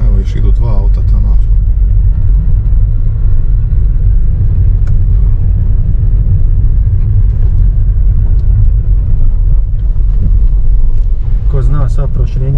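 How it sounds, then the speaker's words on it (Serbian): Cars pass along a narrow village road, a steady low rumble of engines and tyres rising and fading while people talk over it throughout. "Evo, još idu dva auta tamo."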